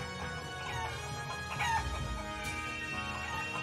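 Chickens cluck and a rooster crows in the video game Shenmue III, a steady barnyard chorus of fowl calls at moderate loudness throughout.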